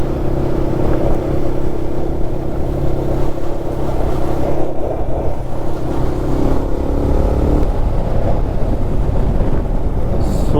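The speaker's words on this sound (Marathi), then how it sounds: "सो म्हणून मी सॅडल करून गाडी चालवतोय" A car drives on a monsoon-season road near Pune, heard from inside as a loud, steady engine drone and road rumble with constant wind buffeting throughout.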